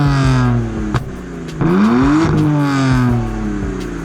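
A BMW 135i engine idles after an engine swap, then revs up with a rising drone and settles back, a loud, close, steady engine note with faint clatter underneath.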